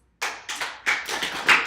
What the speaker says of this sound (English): Now clap your hands once.